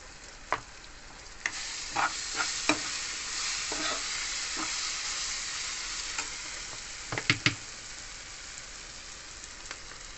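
Okra masala fries in oil with salt and turmeric, giving a steady close sizzle broken by scattered scrapes and taps of a spoon stirring the pan, with no talking.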